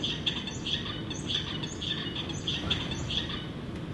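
A songbird singing, repeated short chirping syllables in a fairly regular rhythm over a soft hiss of background noise, moderately faint and with no voices.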